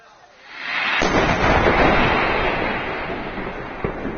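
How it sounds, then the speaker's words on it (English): A heavy, deep blast booms and rolls on as a sustained roar, loud and washing out over several seconds without clear voices. "The deafening blast echoed with a blinding flash of light"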